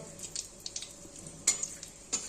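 Chili and bay leaves fry in oil in a pan, a soft, faint sizzle broken by a few scraping stirs and light clinks of a utensil.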